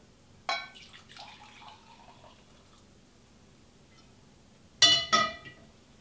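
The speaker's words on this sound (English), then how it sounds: "I'm just pouring the mixture into my cup here" A drink mixture is poured into a cup in two short liquid bursts separated by a quiet gap, close and fairly soft, with no talk.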